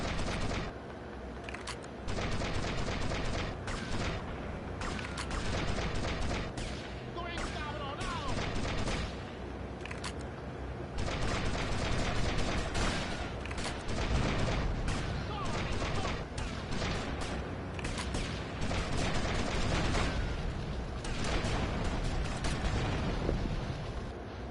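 Gunfire in the video game GTA Vice City, a dense, loud barrage of rapid shots and blasts that runs almost without a break throughout.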